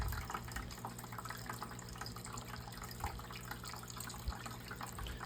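Treated tap water pours steadily into a home aquarium during a large water change, a continuous close splashing rush with a few small bursts and no talk.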